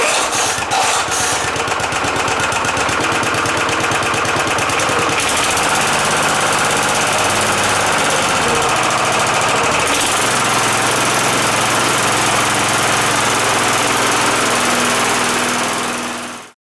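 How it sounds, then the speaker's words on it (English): A small gasoline lawn mower engine starts with a few rough pulls, then catches and runs loudly at a steady, rattling pace for the full stretch before cutting off at the end. "I start the engine"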